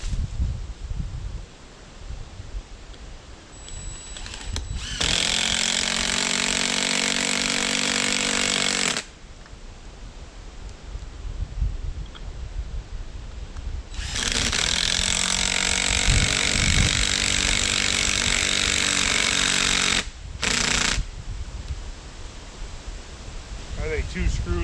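A power drill drives screws through a trail camera mount into a tree outdoors, two sustained loud whirring runs of about four and six seconds each over constant outdoor wind and rustle.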